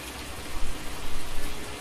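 Steady rain falling in the farming game Farming Simulator 19 on a marsh map, a dense, continuous hiss of close-up downpour with no talk over it.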